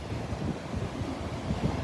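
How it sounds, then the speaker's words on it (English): Mild ocean waves breaking on the beach at Delnor-Wiggins, a steady surf wash mixed with gusty wind buffeting the mic, continuous and fairly loud with no clear single breakers. "the waves are kind of mild today"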